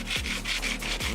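Hand sanding rust down to bare metal on a BMW E36 car body, rhythmic back-and-forth abrasive strokes, close and steady, about five passes with no talking.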